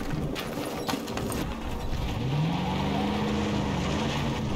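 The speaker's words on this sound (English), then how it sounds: "Park the car over here." A video game car engine hums and revs steadily at moderate loudness, its pitch rising as it accelerates, under busy gameplay noise with no talk.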